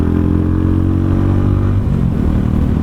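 A Mutt 250 motorcycle engine running close and loud, a steady low throbbing idle with a slight shift in tone near the end and no talking.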